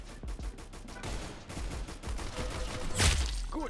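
Gunfire in the Roblox video game: a rapid run of close, sharp shots in quick succession, followed by a heavier, louder blast near the end.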